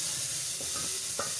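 A cumin tadka sizzles in hot oil for a home-style masoor dal, with a continuous bright frying hiss and a few soft stirring clinks and pops.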